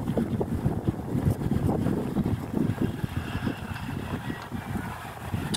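Wind blows outdoors beside a water reservoir, gusting against the microphone in uneven rumbling surges at moderate loudness, with no talking.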